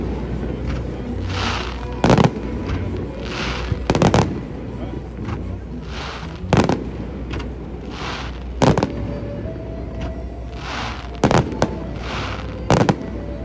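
Fireworks at the grand opening of the Sixth Street Bridge, going off beneath the span: sharp booms every second or two echoing off the concrete viaduct, over a steady crowd murmur with some talking.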